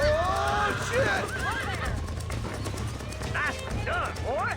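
A horse in Red Dead Redemption neighs in several rising and falling whinnies, with hooves clip-clopping beneath, all close and loud against a steady game background.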